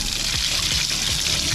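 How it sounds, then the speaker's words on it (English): A sponge is rinsed under running water during car detailing, giving a continuous close splashing rush with faint rhythmic squeezes. "you take your sponge and just clean it"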